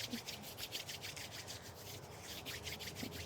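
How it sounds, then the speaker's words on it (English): Palms rubbing together briskly during a yoga session, a soft rhythmic swishing friction repeated in quick strokes, close and fairly quiet, with no voices. "I'd like you to rub your hands together."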